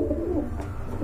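A male red-geared pigeon, kept as a fancy breed for sale, gives a soft, low cooing call, close and quiet against a faint background hum, with no talk over it.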